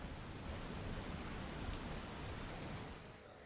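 Heavy rain pours down steadily in Kalyanpur, Dwarka, a dense, unbroken hiss that eases slightly at the very end.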